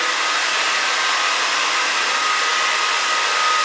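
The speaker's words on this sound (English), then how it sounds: "you obviously want to dry the opposite way that you need the volume" A hair dryer blowing steadily on medium-length hair during a haircut, a loud, continuous, airy roar held without a break from start to finish.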